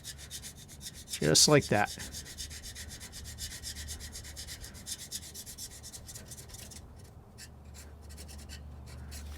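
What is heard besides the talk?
scraping old gasket material off a truck axle housing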